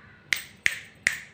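Three crisp finger snaps, close and evenly spaced, with nothing else audible between them.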